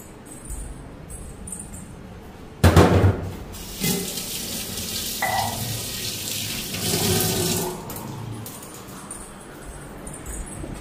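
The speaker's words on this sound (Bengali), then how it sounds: "ভালো করে হাতটা ধুয়ে নিল।" Hands are washed under a running kitchen tap in a home kitchen, water splashing and gushing into the sink in uneven bursts that swell and fade over about eleven seconds, with small clinks and no talk.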